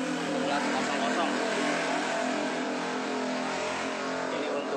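A Nishikawa 18 HP diesel engine, ZS 1100 type, drives a Mahkota KD 100 rice mill, giving a loud, continuous, steady drone of engine and milling machinery with a voice speaking over it.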